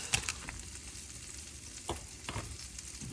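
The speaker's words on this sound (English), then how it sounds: "butter and olive oil is warm, we're gonna add our asparagus to it" Asparagus sizzling in a pan of warm butter and olive oil, a steady soft frying hiss with a few brief stirring clatters, close and moderately quiet, no voices.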